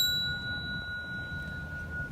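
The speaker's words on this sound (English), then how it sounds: "And on the chime sets that Michelle was talking about, 180 sounds like this." A healing chime tuned to a 180 tone rings with a steady, sustained shimmer over a low background rumble, fairly quiet throughout and with no talking.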